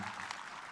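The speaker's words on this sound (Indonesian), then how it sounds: "Wih, tepuk tangan untuk kita semua." Audience clapping at the opening of Hub Space 2023, a brief burst of dense, even applause filling the room.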